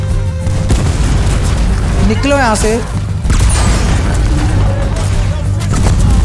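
Grenade explosions in Red Dead Redemption 2 boom repeatedly under constant dense gunfire and game noise, loud and close, while someone talks excitedly over the action.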